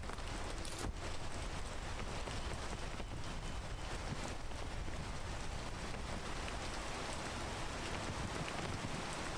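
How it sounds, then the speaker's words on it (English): Rain falls steadily in a Zelda video game, a constant soft hiss of drops with no pauses and a faint brief crackle near the start. "All right, we got more rain."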